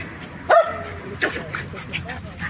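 Dog barking nearby in a few sharp yips and barks, loud and close, spread out over a couple of seconds, with people talking around it.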